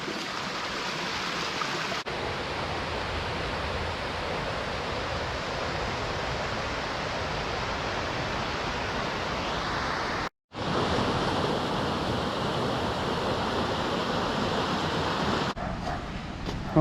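A waterfall and brook in Padley Gorge in the Peak District rush steadily and close by, a continuous broadband wash of flowing water with a brief break near the middle.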